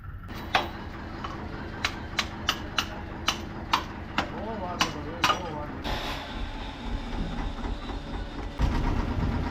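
A tractor engine runs at idle with a steady low rumble, overlaid by a series of sharp regular ticking clicks.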